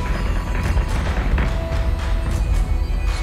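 A tylium refinery blows up in the Battlestar Galactica Deadlock space combat game, giving a sustained, dense rumbling roar with deep booming thuds that hold steadily loud across the moment, no talking.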